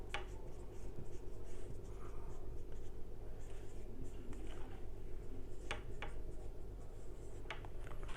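A pen scratches steadily across paper while working an accounting depreciation table, a continuous close, soft scribbling with occasional light taps.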